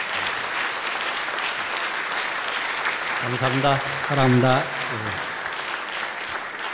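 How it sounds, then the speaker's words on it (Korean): A church congregation rises and gives loud, sustained applause to welcome a pastor, a dense roar of clapping throughout, with someone briefly speaking over it partway through. "우리 다 같이 기립하셔서 큰 박수로 맞이해 주시겠습니다"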